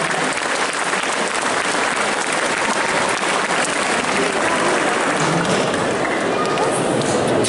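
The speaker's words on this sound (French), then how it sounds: "Je veux juste que vous applaudissiez très fort Cécile Faël" A crowd at a cosplay contest claps loudly and steadily throughout, a dense wash of applause with faint voices mixed in.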